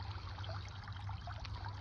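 A small 3D-printed, solar-powered water fountain trickles softly and steadily, a faint, continuous splash over a low, constant hum.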